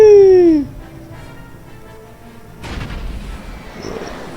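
A video game explosion from Star Wars: Knights of the Old Republic, a loud boom with a falling tone that cuts off after half a second, followed by quieter rumbling ambience.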